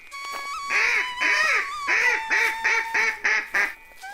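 Cartoon ducks quacking in a Bengali fairy tale, a rapid string of about ten loud nasal quacks in quick bursts, close and clear, with a faint tonal music line underneath.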